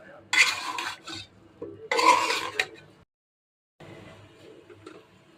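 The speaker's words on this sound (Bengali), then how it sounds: "মশলাগুলির সাথে আমগুলি ভালো করে মিশিয়ে নিব।" Mangoes being stirred into spices for a sweet, sour and spicy pickle: two short bursts of scraping and stirring, close and fairly loud, then a pause before softer stirring resumes.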